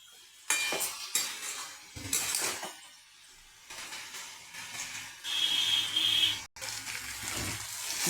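Vegetables with ground spices for puti fish chachchari stir-fried in a pan, heard as intermittent bursts of utensil scraping and clatter separated by quieter gaps, with a brief sizzle rising near the end.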